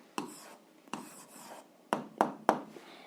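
Pen or pencil strokes scratch across paper as an algebra answer is written by hand, arriving as several short, close bursts with brief pauses between them, quiet and with no voice over them.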